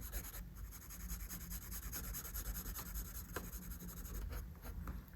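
A pencil colours in a drawing on paper with quiet, steady back-and-forth rubbing and scratching strokes. The sound is close but faint and continues without pause.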